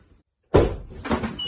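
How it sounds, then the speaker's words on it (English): A door opens indoors after a moment of silence, with one firm thud and a rattle, then a second softer clunk and scrape about half a second later, close and fairly loud. "You're just gonna open the door."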